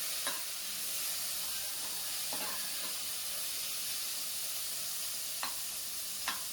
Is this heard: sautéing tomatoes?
yes